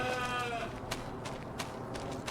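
Sheep on a farm bleat in a wavering cry near the start. Sharp clicks and knocks follow against steady background noise.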